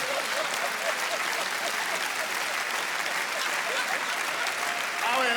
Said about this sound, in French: là, vous applaudissez